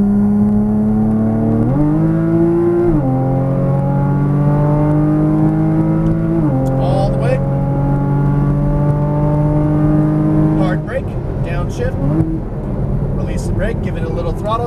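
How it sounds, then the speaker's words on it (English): A Porsche Cayman GTS pulls hard at full throttle on the Las Vegas Motor Speedway track, its engine note climbing loudly through gear changes, with in-car voices talking over it. "Full throttle to the outside."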